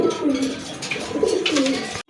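Pigeons cooing close by, a few soft rolling throaty coos in quick succession over a short stretch.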